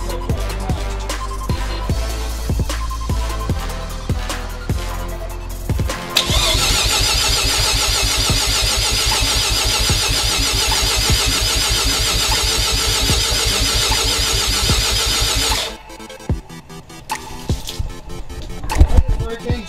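A 1988 Mazda RX7 FC3S with a rotary engine, Haltech Elite 1500 management and a big turbo, cranks in loud uneven pulses for several seconds. It then catches and holds a dense, buzzy run for about ten seconds, drops off, and ends with scattered knocks.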